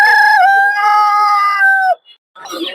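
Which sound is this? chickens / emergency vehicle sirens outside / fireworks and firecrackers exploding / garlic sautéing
chickens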